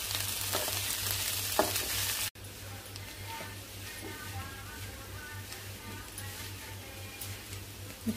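Boiled potato fry with green chilli paste and turmeric sizzles and crackles in a pan while it is stirred, a loud steady fry that drops quieter after a brief cut, with faint scraping ticks.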